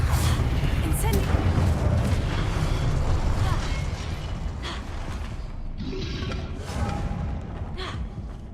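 In Hogwarts Legacy combat, a spell fires off amid a steady rumbling, mechanical din, with short crackling bursts and whooshes near the end.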